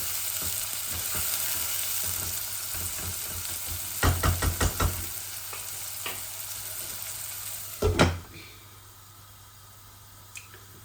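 Onions sizzle in a pan, a constant hiss punctuated by a quick run of metallic knocks and scrapes from stirring, then a louder clatter before the frying settles and quiets.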